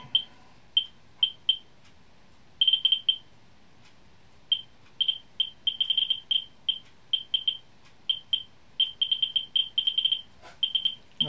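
Geiger counter clicking near radioactive grocery-store salt: sharp, irregular beeping clicks arrive singly and in quick clusters at a moderate rate, clear and close over a faint background.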